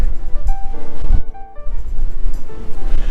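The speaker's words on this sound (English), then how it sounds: "it's a little breezy out here" Strong wind buffets the microphone on the open outdoor deck of the cruise ship Island Princess, a loud, roaring rumble that dips briefly before gusting back, with faint background tones.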